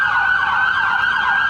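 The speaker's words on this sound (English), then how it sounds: "It was just after midnight, and we could hear the sirens" Emergency vehicle sirens wail at night with a loud, steady, rising and falling tone that continues throughout, without speech.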